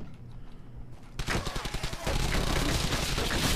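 Rapid bursts of gunfire from the World War II shooter Brothers In Arms: Hell's Highway, starting as scattered shots and building into a dense, loud volley that carries on without a break.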